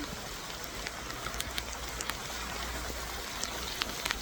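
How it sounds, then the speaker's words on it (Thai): Steady storm rain falling, a broad constant hiss with scattered drop ticks, fairly close and unbroken throughout. "ฝนตกจ้า"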